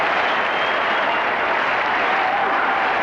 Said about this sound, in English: all the Kiwis at the ground are out of their seats at the moment, cheering the New Zealand captain off the ground